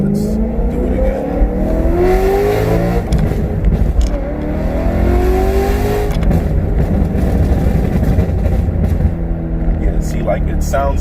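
A BMW E92 M3 exhaust with an ACM four-pipe muffler mod roars and revs repeatedly, pitch rising and falling, loud and close, with people talking over it.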